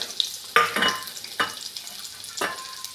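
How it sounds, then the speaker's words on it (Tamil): Mustard seeds spluttering and popping in hot oil in a kadai while onion and two chilies sauté for a bottle gourd stir-fry, with sharp crackling bursts over a steady sizzle and a few stirring scrapes, close up with no talk. "எண்ணெய் கொஞ்சம் ஊற்றி கடுகு போட்டுட்டு அது நல்லா பொரிஞ்சதுக்கப்புறம் வெங்காயம் 2 மிளகாய்"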